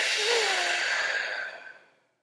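A long, soft exhale, near and breathy like a relaxed sigh, flowing steadily for about two seconds before trailing off into silence.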